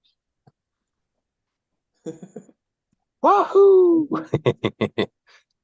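A sharp, loud sneeze with a drawn-out vocal burst, followed by a quick series of short rhythmic exhales and a brief exclamation.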